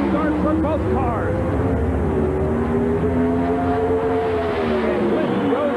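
Two 1990 NHRA Pro Stock drag cars, 2,350 pounds each with drivers aboard, roar off the starting line together, a loud sustained engine drone with rising and falling harmonic whines, while an announcer talks over it.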